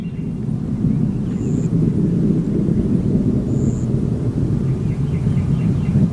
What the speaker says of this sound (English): three main engines now back at full throttle, all three engines in good shape